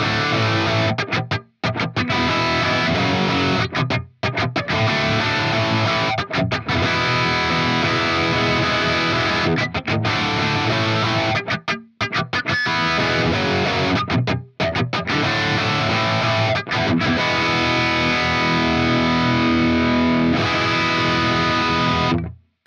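Distorted electric guitar played through a Friedman 4x12 cabinet with Greenback speakers, close-miked on a single Greenback M25, chugs in loud, dense riffs broken by short sharp stops, with no talking.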